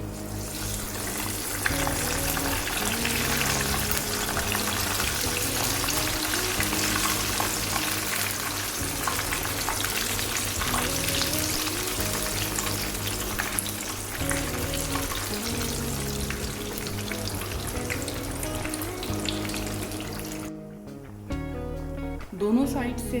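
Sweet tikki patties frying in oil, a dense, continuous bubbling sizzle that runs steadily for most of the stretch, then drops away near the end, leaving a few scattered knocks and clicks.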